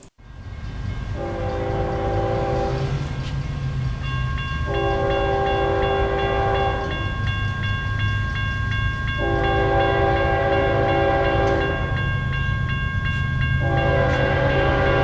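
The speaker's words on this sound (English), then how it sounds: "this Saturday's rendition of CSX I-044 out of Tampa" A CSX freight train, I-044 out of Tampa, rolls past near Plant City, Florida, its horn sounding in several long, loud blasts over a steady rumble of the passing cars.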